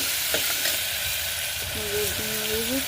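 Chopped bottle gourd with onion and tomato is tempered in hot oil, giving a continuous dense sizzle with stirring, and a brief tonal voice-like sound rises near the end.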